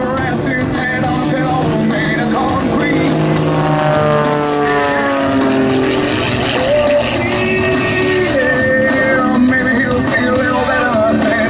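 An airshow plane with a custom-built 350 horsepower motor, composite propeller and shortened wings flies overhead, its loud propeller drone rising and falling in pitch as it passes and maneuvers. The sound is continuous, with no voices.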